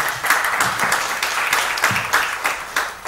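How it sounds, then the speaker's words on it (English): Audience applause at the close of a talk, many hands clapping in a steady, close, continuous burst with small swells and no voices over it. "Another round of applause for Victor."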